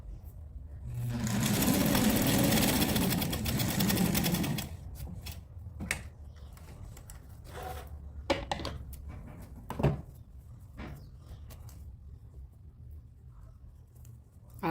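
A sewing machine stitching elastic thread for a child's dress runs in a loud, fast whirring burst for a few seconds, then stops, followed by faint clicks and handling taps.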